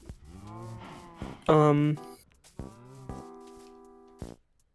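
Cows low in a Minecraft-style building game, with several drawn-out synthetic moos in close succession, clear and moderately loud with no talking.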